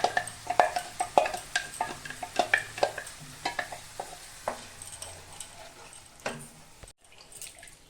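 Onion-garlic paste for kadai paneer fries in a pan, with rhythmic close clicks and taps of a stirring spoon over a low sizzle that slows and fades toward the end.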